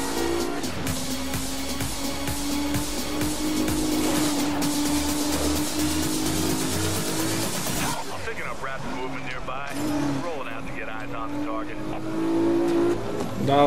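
NPC traffic cars drive around in Need for Speed Rivals, steady engine drone and revving with tire noise and passing cars, loud and continuous under someone talking throughout.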